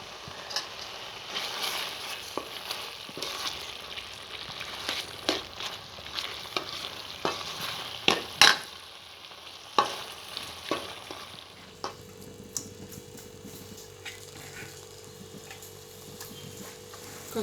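Tomato rice ingredients and curry leaves fry in oil with a soft continuous sizzle, and a spoon knocks and scrapes against the pan now and then. The sizzle thins out toward the end, leaving a low steady hiss.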